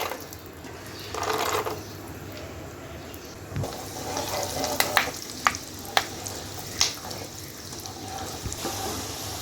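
Peanuts frying in oil for a pumpkin chanachur snack, a steady close sizzle with a few sharp pops and clinks partway through, no talking.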